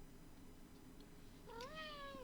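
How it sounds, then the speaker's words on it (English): A cat gives a single rising meow near the end, faint against a quiet indoor background. "here comes the cat to chime in."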